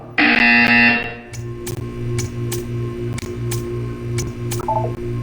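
Buzzer from the video game Portal 2: a loud, bright electronic buzz lasting about a second, followed by a soft rhythmic ticking and low hum with repeated sharp clicks.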